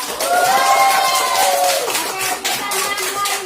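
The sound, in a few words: applause, clapping for a student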